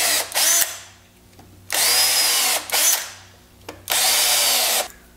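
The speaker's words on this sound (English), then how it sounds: "I'm going to take a tapered drill bit, and I'm going to go through here and just drill" A power drill with a tapered bit whines loudly drilling into wood in three long bursts, each revving up and winding down, with short quiet gaps between them.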